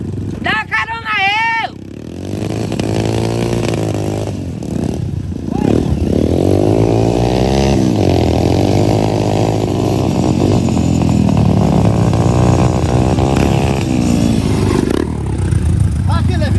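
A motorcycle engine runs steadily for the whole stretch, loud and close, with a continuous droning tone and a brief higher whine near the start, while people talk over it.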